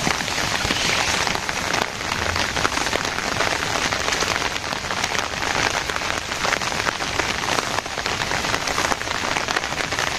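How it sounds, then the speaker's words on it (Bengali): Steady rain pours down in a village, a dense, even hiss of drops on surfaces that swells and eases slightly but never stops. No voices are heard over it. "বৃষ্টি কখনো একটু বেশি নামে, কখনো আবার কমে, কিন্তু থামে না আর কি"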